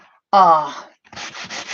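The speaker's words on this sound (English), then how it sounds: "I've got some sanding blocks. Just sanding blocks." A brief voiced murmur, then a run of rough, rhythmic rasping strokes, like a sanding block rubbed back and forth on a surface close by.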